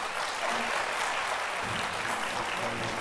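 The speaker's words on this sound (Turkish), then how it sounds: "O güzel alkışlarınızla..." An audience applauds at a Turkish music performance, a dense, even wash of clapping that holds steady throughout the short stretch.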